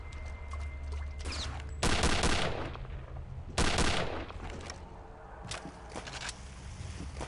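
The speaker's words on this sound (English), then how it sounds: "Favorite weapon, the rapid fire sniper." Rapid-fire sniper rifle in Return to Castle Wolfenstein, two loud bursts of quick shots cracking close by, with fainter shots and noisy game ambience between them.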